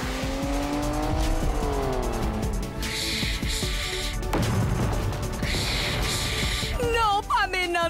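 A heavy cartoon truck races at high speed, with loud engine roar and bursts of screeching tire squeal over busy music-like sound, ending in quick chirping squeals.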